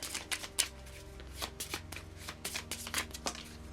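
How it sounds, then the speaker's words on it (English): A deck of Marvel Champions cards is riffled and shuffled repeatedly, producing a close, crisp series of rapid papery bursts and flicks in an irregular rhythm, fairly quiet, with no talking. "shuffle this up."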